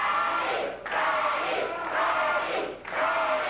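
Crowd at a CWA Memphis championship wrestling mask match cheering and shouting in a steady, loud roar with brief dips and swells, no talk over it.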